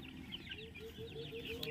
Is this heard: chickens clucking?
yes